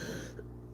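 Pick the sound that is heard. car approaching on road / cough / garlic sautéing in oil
cough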